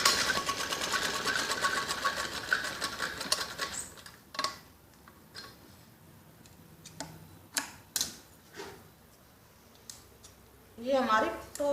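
Scissors snip away extra cloth from a stitched kids' top, a few sharp close cuts after an opening stretch of louder mechanical whirring, with a voice heard near the end.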